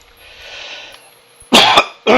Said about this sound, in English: I do apologize for the coughing and the clearing of the throat